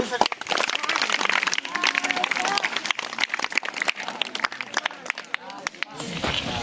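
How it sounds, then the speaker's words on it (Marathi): Students in a school classroom give a burst of dense, rapid hand clapping during a maths lesson at an education-week event; the applause continues for several seconds with voices mixed in. "टाळ्या"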